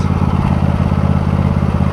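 Husqvarna YTH2348 lawn tractor engine idling down, a steady, fairly loud low rumble with an even chugging rhythm throughout, no talk over it.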